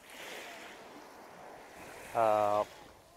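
Soft surf washes onto the beach of a five-star InterContinental hotel on Phu Quoc, a low, steady rushing hiss, with a brief tonal call cutting in near the end.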